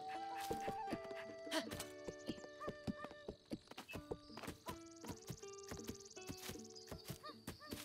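A horse in Zelda: Breath of the Wild clip-clops with steady, close hoofbeats and lets out a neigh, set over a soft game music backdrop.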